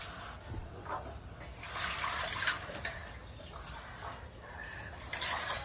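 Cut potatoes being washed in water, with splashing, sloshing and trickling that rise and fall in uneven bursts at close range, fairly quiet, no voices.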